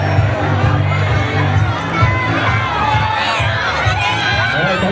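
Spectators at a New Year's Eve San Silvestre road race finish line cheer and clap amid crowd chatter and shouts, with an announcer talking over the lively din.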